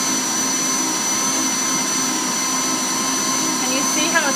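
A stand mixer kneading breadstick dough runs with a steady, loud motor whine and hum that holds constant throughout.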